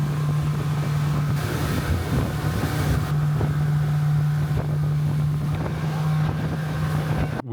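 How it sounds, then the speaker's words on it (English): A small tourist boat carries passengers across the water to an island, its motor droning loud and steady under wind buffeting the microphone, with no talk. "We're on the boat."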